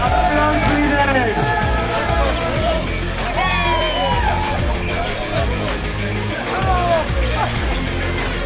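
A crowd at a mountain bike race ceremony for the Duo Xtreme 2021 cheers and whoops over continuous babble and clapping, with shouting voices rising and falling throughout.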